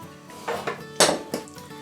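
A utensil knocks and scrapes against a saucepan as sugar and water are mixed, giving four or five separate clinks close by on a quiet background.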